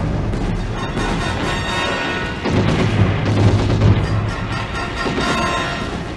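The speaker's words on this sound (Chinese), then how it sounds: "在敌人的暗防火力仍然在开火的情况下，所有战士不做停歇" A film battle scene of troops storming the south bank in a Yangtze River crossing: dense, continuous gunfire and heavy booming explosions roll together, swelling louder midway and never letting up.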